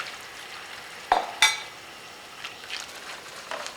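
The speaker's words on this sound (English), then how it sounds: "we'll just start to whisk this in" A whisk works flour into boiling turkey gravy in a pot, a soft bubbling simmer broken by a couple of sharp metallic clinks and faint scraping strokes, close and fairly quiet.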